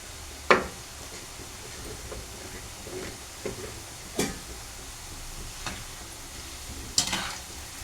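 Boondi batter drops into hot oil and fries, giving a soft sizzling hiss. Several sharp clinks from a ladle or spoon are spread across the clip. Nobody speaks.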